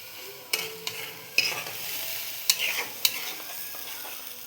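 Ginger paste fries in a pan with a little water and is stirred, bringing sharp spoon scrapes and clinks at irregular intervals over a low steady sizzle, heard up close with no talking.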